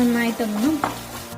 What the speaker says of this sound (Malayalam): ഒന്ന് പൊട്ടി തുടങ്ങുന്ന സമയത്ത് തന്നെ ഞാൻ കുറച്ച് തേങ്ങ കൊത്തെടുത്തിട്ടുണ്ട്, അതും കൂടി ചേർത്തെടുക്കുകയാണ്